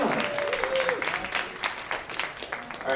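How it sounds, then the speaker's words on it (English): A small comedy open-mic crowd gives short, scattered applause for comedian Sean, with a few claps rising and fading over several seconds while someone talks over them. "Everyone applaud."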